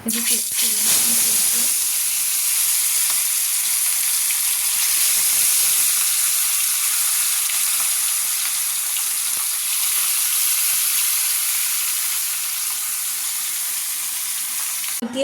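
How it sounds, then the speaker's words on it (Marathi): Hot oil frying in a home kitchen pan, a loud steady sizzle and hiss that holds for the whole stretch, with faint speech near the start. "तर मी हे तेल गरम झालं आहे,"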